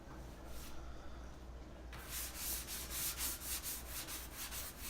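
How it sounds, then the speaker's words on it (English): Faint, rhythmic rubbing of a sanding block smoothing the edge of a wooden sliding barn door, with repeated back-and-forth strokes that grow more distinct after a couple of seconds. "I'm using a sanding block to smooth the edge on both sides"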